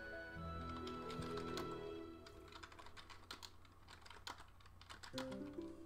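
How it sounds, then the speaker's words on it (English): Noisy computer keyboard being typed on, a rapid irregular patter of sharp key clicks, fairly quiet, with background music playing underneath. "keyboard wasn't so noisy"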